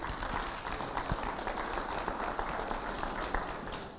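Conference audience applauding as a company CEO is invited on stage, a steady even patter of clapping from a crowd, moderately distant and continuous throughout.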